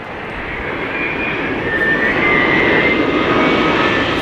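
An airliner's jet engine roars at London Heathrow in strong winds, a loud, sustained rumble with a whining tone that swells gradually, heard from nearby without speech.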